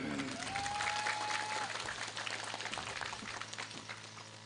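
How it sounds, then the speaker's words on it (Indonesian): An audience claps steadily at a religious talk, a moderate, continuous spread of applause with a faint tone briefly audible at the start. "Bapak Arifin, tepuk tangan."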